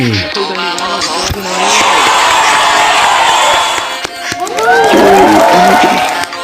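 Loud crowd cheering and applause from a Sakura School Simulator game, a dense sustained roar with whoops that swells, dips briefly, then surges again.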